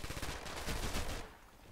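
Rapid bursts of automatic gunfire from a competitive shooter video game match, fired through smoke. The shots rattle loudly in a fast string for about a second, then cut off.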